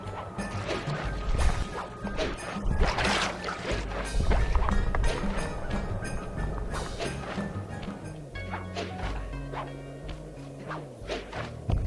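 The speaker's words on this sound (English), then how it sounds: "Someone just sort of set off a chain of explosions." A dense, loud run of booming blasts and crashes from a chain of explosions in the video game Sly 2 keeps going without a break, one explosion piling onto the next, with clattering debris throughout.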